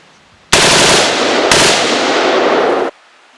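AR-15 rifle fitted with a Slide Fire SSAR-15 bump fire stock, shooting outdoors: two long, loud, rapid strings of gunfire about a second apart, a dense roar that stops abruptly into quiet.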